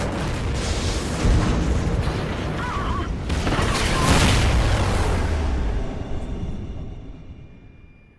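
A space station explodes in the video game Call of Duty Ghosts, a heavy rumbling boom that swells, rolls on for several seconds and then fades away, with a faint voice briefly underneath.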